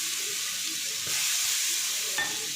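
Water and oil sizzle on a hot dosa tawa, a steady, dense hiss close by with a slight surge midway and a faint tap near the end, no talking.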